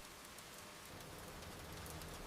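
Steady rain falls outside a quiet countryside kitchen, an even, soft wash of drops spread across the whole clip with no voices.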